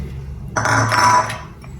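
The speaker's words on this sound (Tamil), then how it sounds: "இந்த மீன் துண்டுகள் எல்லாத்தையும் எடுத்து போட போகிறேன்" Fish pieces drop into a clay pot with a short clattering, scraping burst of contact sounds, close and clear, over faint room hum.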